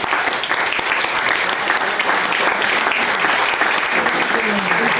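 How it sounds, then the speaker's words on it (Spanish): Loud, dense applause from an audience at a talk, sustained at full strength from start to finish. "Merece un aplauso."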